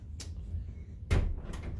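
A door opens after its latch has been turned with needle-nose pliers: a few faint clicks and a soft thud over a low hum, all quiet and close.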